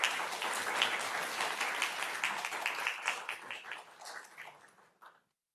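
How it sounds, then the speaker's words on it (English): Workshop audience applauding together after a presentation, a steady, fairly loud wash of many hands that thins toward the end and stops abruptly. "how about a round of applause then?"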